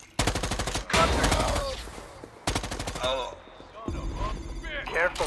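Gunfire in the Predator: Hunting Grounds video game: dense automatic rifle bursts with short breaks, loud and close, mixed with game effects and sounds that may be voices.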